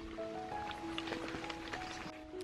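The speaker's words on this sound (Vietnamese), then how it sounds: "Thời tiết mưa các bạn ạ." Rain falling on a rainy day outdoors near a home, steady broadband patter with scattered drip ticks, accompanied by faint background tones and distant activity.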